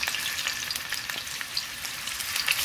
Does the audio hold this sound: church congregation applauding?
no